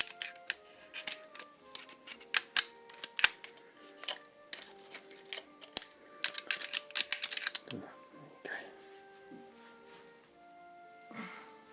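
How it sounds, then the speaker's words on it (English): Socket wrench working on paint-clogged nuts and bolts of a Honda VF750F engine during teardown, giving a string of close, sharp metallic clicks and taps in irregular bursts, tapering into a few softer knocks near the end. "I have to keep forcing the sockets onto the heads of nuts and bolts"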